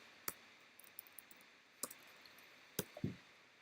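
A handful of sparse, sharp clicks from a computer keyboard while code is typed, four or so distinct keystrokes spread over a few seconds against a quiet room background.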